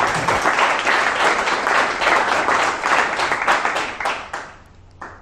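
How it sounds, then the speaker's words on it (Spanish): Loud, sustained applause from a church congregation during a Spanish-language sermon, a dense wash of many clapping hands that fades out near the end. "Denle un aplauso al Señor."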